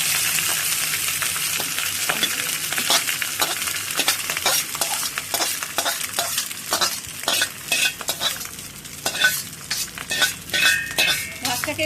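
Cooked rice for soya pulao is stirred and tossed in a hot pan, with a spatula scraping and clinking against the metal in irregular strokes over a soft sizzle, close and fairly loud.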